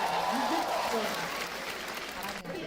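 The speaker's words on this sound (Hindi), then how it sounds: "एक बार जोरदार ताली बजा दो सबके लिए भाई" Applause from a comedy special audience, a steady wash of clapping while a voice talks over it throughout.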